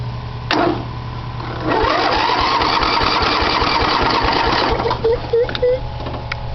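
A lawn mower engine is started: a brief crank at first, then about three seconds of a steady buzzing run that cuts off, followed by a few faint clanks and squeaks.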